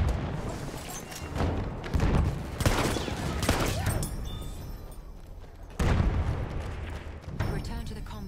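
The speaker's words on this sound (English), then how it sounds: "coordinates have been sent to our artillery." Video game artillery fire: repeated heavy booming volleys, some close and loud, others rumbling further off, layered over a dense battlefield din with a voice briefly heard.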